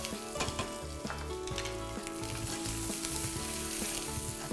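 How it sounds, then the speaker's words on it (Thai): Shrimp stir-fried in oil in a very hot pan make a loud, continuous sizzle with quick stirring clatter and scraping throughout, close up and without talk. "ใส่น้ำมันลงไปปั๊บ ผัดอย่างรวดเร็วไม่ให้มันสุกมากหลังจากนั้นผมใส่กุ้ง"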